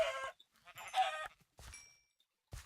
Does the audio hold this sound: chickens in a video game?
yes